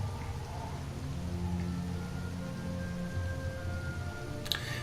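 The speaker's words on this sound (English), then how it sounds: "The rain continued until dawn, the start of a new day." Steady rain falls in the video game Dragon Quest VIII, a continuous soft wash of drops with a faint low musical drone beneath and a brief brighter patter near the end, with no talking.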